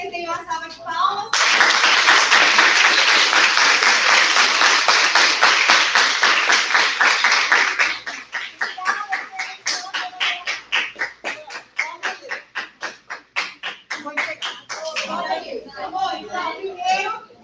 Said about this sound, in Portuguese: Eu quero que vocês deem uma salva de palmas.